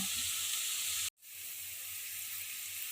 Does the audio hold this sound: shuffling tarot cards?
no